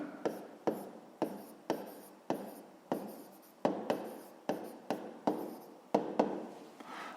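A pen scratches across paper by hand as a math check is written out, in quick repeated strokes that each start with a sharp tap, close and alone.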